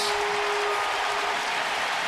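A ballpark crowd roars and applauds after back-to-back home runs by the Nationals against Baltimore, a broad steady wash of cheering and clapping that stays loud and even for the whole moment, with no speech over it.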